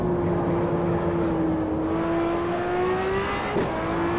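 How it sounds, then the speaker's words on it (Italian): A Ferrari LaFerrari engine in the Assetto Corsa racing game drones steadily at high revs at Spa, a smooth sustained roar with a brief shift in pitch near the end, no voices. "sentite qua che rombo che c'ha sta macchina"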